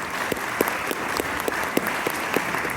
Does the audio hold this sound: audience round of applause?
yes